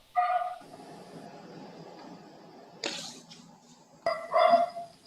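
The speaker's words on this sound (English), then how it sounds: "That's my dog." A pet dog barks indoors in a home during an online meeting, with a few separate barks and yips spread across the moment, moderately loud with room noise between them.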